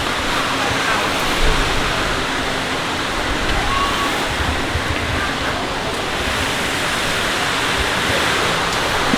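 Steady churning water from a large resort hot tub at Disney's Coronado Springs, a constant broad hiss and bubbling that fills the whole stretch at an even, fairly loud level.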